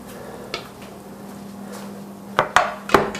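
Focaccia pried from a baking pan with a butter knife, a few sharp metallic scrapes and clinks near the end over a steady low hum.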